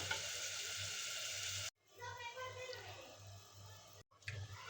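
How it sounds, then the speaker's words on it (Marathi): Spicy egg curry bubbling in a pan as it comes to a boil, a faint steady sizzle and soft simmer with low clinks, broken by two short silent gaps. "भाजीला उकळी आलेली आहे"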